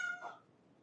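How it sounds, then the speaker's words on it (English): A house cat lets out one loud, drawn-out meow indoors while rain falls outside, the cry rising sharply and then fading into quiet room tone within a second. "I don't know why my cat is just like screaming at me."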